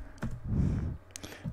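Keys clatter on a computer keyboard at a Linux terminal, a few quick clicks with a short burst near the start and another near the end, close and moderately loud with no talking.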